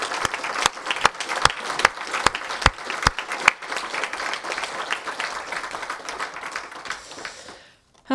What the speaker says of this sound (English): let's give a big round of applause to Lexi, Nico, and Kelsey.